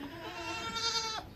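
A goat on a small farm gives one close, wavering bleat lasting about a second, heard on its own.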